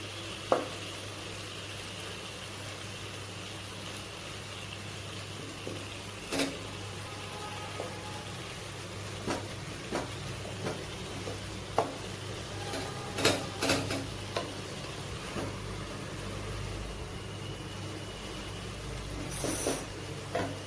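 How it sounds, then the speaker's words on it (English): Hilsa fish curry with brinjal and potato is slowly stirred in a pan with a soft, steady sizzle and scattered faint scraping clinks of the spoon, quiet and close. "Give it a stir, slow stir, and take care the brinjals are soft"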